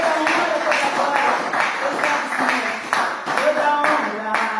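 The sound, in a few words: church congregation giving a round of applause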